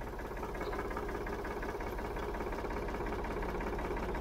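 A Ford 3000 tractor engine runs noisily after its first start in over ten years, a steady loud rumbling chug with a rough knocking edge, close and unbroken, no talking.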